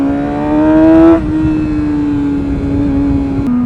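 Engine of a Triumph Daytona motorcycle on a race track, a loud sustained tone that rises and then drops as it passes or shifts, continuous and close for a few seconds, no speech.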